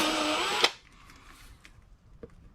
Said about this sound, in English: I'm just going to open these up to the next size unibit